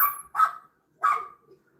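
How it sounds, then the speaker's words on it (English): Two separate barks from a dog in a residential backyard, somewhat distant and sharp, with a pause between them and faint background quiet. "The dog is barking."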